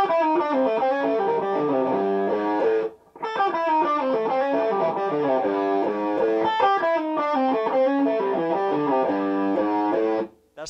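A 2012 DGT Standard electric guitar plays an improvised country-style lick through heavy distortion, loud and alone, with a short gap before the phrase repeats.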